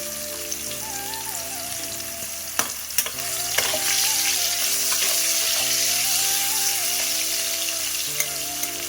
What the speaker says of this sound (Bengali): আলু আর কুমড়ো একই সাথে ভেজে নেবো ভালো করে।